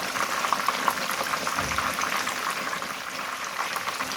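Pieces of fish shallow-frying in hot oil in a pan for a Lahori-style fish fry, a steady dense sizzle and bubbling crackle holding at an even level throughout, no voices.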